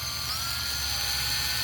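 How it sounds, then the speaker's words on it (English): A drill bores a hole through a brake part on a 2008 Dodge Ram 1500 SLT, giving a steady high-pitched whine with a constant low hum beneath it, close and continuous. "And drill your hole right through it."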